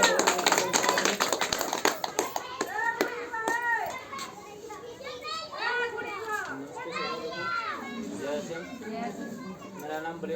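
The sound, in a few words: audience clapping to welcome a guest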